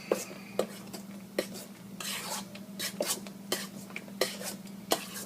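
A spoon stirs a vanilla cinnamon ice cream mixture in a bowl, giving close, rhythmic clinks and scrapes about every half second over a quiet low hum.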